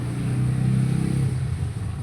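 An electric fan motor runs close by with a loud, steady low hum and a slight pulsing wobble that eases off toward the end.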